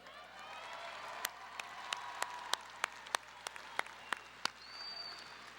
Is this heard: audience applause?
yes